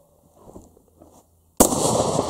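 A single sharp shotgun blast from an Uzkon LA887 lever-action shotgun, fired outdoors at a cucumber target, erupts loudly after a quiet stretch of faint rustling and leaves a sustained noisy tail.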